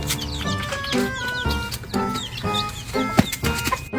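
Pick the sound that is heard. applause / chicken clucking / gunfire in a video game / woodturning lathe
chicken clucking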